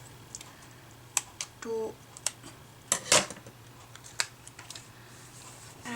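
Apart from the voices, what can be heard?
cutting small lines in white card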